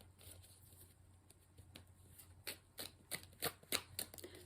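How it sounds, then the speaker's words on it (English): Tarot cards shuffled and pulled by hand at close range, quiet at first with soft papery rustles, then a run of sharper riffling snaps and flicks in the second half, with no talking. "I won't know that until I start pulling the cards."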